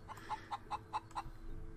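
Free-roaming chickens in the video game Bastide give six evenly spaced clucks in a quick regular rhythm, clear but fairly quiet over a soft low background.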